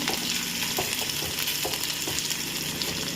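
Green chillies and curry leaves frying in hot oil for an alasandi kalu palya, a dense, continuous crackling sizzle close up, with occasional scrape and stir knocks in the pan and no talking.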